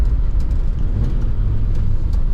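A 1988 Peugeot 205 GTI hot hatch driving on a wet, slippery road, heard as a steady low engine and road rumble from close by, with no talking.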